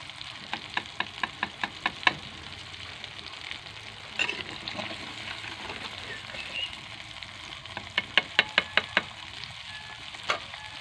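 Food fries with curry leaves and green chillies in a pan, giving a steady soft sizzle, punctuated by rhythmic metallic clinks of a spoon stirring in bursts.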